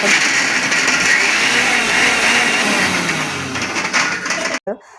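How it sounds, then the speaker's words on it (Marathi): A kitchen mixer grinder grinds ginger and green chillies for vada pav with a loud, steady motor whir. The whir runs continuously, then cuts off abruptly near the end. "सगळं मला ते मिक्सरला वेगवेगळं हे बारीक करायचं आहे"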